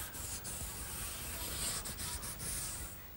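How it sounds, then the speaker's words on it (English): Continuous scratchy rubbing of 220-grit sandpaper on mahogany by hand, steady back-and-forth strokes, close up with no voices. "Now some final sanding with some 220 grit sandpaper"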